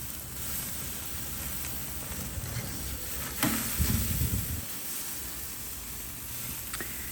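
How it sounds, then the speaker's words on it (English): A fatty steak sears on a grill, giving a steady, close sizzling hiss throughout, with a brief louder flare of crackling and spitting midway before it settles back to an even sizzle. "it'll sear those fatty edges"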